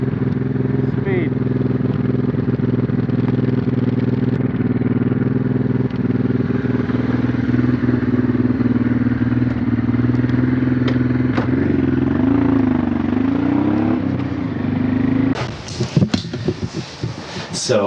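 Steady, loud engine drone from a Honda Transalp motorcycle idling close by, running continuously with a slight wavering in pitch, then cut by clattering, crackling knocks near the end.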